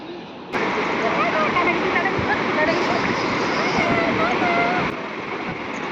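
Strong sea waves crash on a beach at the New Year, sounding as a loud, continuous roar of surf and rushing water that fills the whole span.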